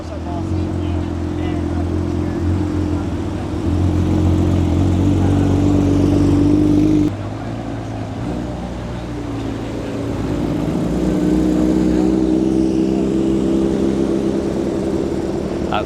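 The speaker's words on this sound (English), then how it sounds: "We got a nice set of GT3 RSs coming in over here." Several Porsche GT3 RS cars roll in with engines revving, a steady mid-pitched engine drone rising and falling over the whole stretch under crowd chatter and talk.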